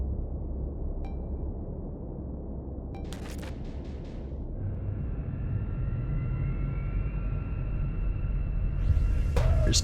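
In the space combat game Starsector, bomber craft attack a ship amid a deep, steady rumble of engines. Short whooshing bursts break through the drone, and a rising whine swells toward the end.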